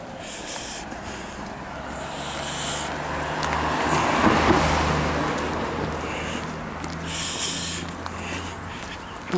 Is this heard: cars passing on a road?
yes